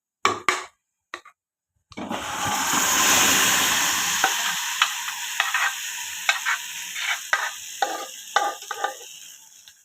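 Lentils for mango dal land in a hot tempering with a sudden loud sizzle that gradually fades, then a spoon stirs with scraping clicks. A few sharp knocks come just before.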